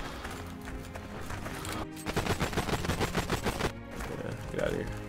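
Heroes & Generals WW2 combat rattles with rapid gunfire, a sustained close burst of shots between two and almost four seconds, with further scattered shots before and after against a busy battlefield background.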